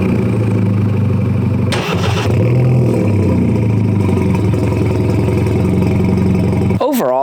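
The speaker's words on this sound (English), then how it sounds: "set up the camera behind the car, and so that way you guys can hear not a cold start, but a startup with the GTS startup roar" A BMW F30 328i fitted with a GTS startup roar cranks briefly and fires up with a loud burst, then settles into a steady, throbbing idle close by, with someone talking over it.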